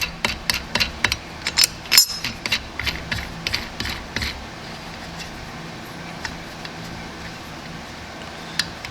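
Ratchet wrench clicking as it tightens down on an LS V8 engine during a valve spring replacement, with quick loud bursts of pawl clicks over the first four seconds, then sparse fainter clicks against a quiet workshop background.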